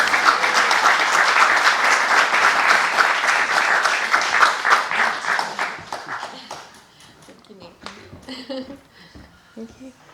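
An audience at a Malibu poetry night claps loudly for a reader, Tracy Katz, and her sons. The applause is strong at first, then thins to scattered claps and fades as voices start to talk.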